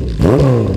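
A 1971 Honda CB750K1 motorcycle fitted with a new Del Covic exhaust revs up close by, its loud engine note sweeping upward and then holding in one brief, throaty burst.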